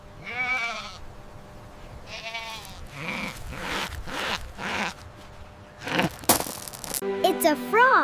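A goat bleats several times in short quavering bursts, fairly close and loud, followed by clattering knocks and a shrill squeaky call at the end.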